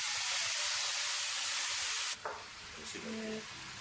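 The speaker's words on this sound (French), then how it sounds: "ici, on ajoute du vin pour déglacer la viande" Wine poured into a hot pan to deglaze meat, a loud hissing sizzle and burst of steam for about two seconds that cuts off abruptly, followed by quiet bubbling and faint clinks.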